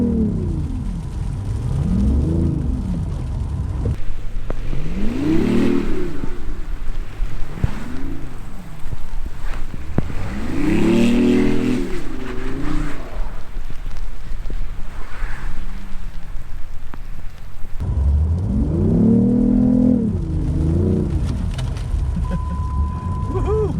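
A BMW i8 driving on snow in sport mode with traction control off, its engine swelling and falling in repeated revving surges over steady wind and road rumble, loud and close.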